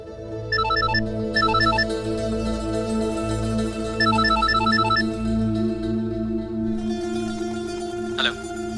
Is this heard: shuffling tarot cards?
no